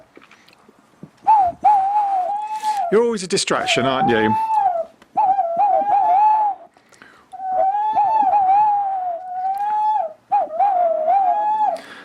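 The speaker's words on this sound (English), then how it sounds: "that's my noisy tawny owl" A tawny owl's wavering hoots and calls repeat close by in long stretches, with a person talking briefly over them.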